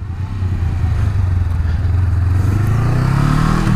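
A Honda Rebel 500 motorcycle engine hums steadily close up, its pitch rising gradually as the bike accelerates.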